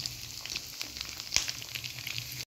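Egg and potato cutlets fry in a pan over raised heat, giving a steady close sizzle and crackle with scattered small pops and one sharper spatter, alone without talk.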